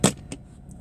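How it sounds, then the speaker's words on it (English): A diecast toy car is pulled from its box, making two brief, crisp packaging clicks a fraction of a second apart, then faint rustles in a quiet room. "I'm just taking this car out of the box."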